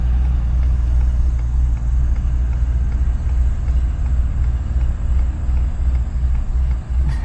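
An old crane truck bought at auction runs close by while the driver shifts gears, producing a loud, steady low engine drone with a slight shudder and small dips in level.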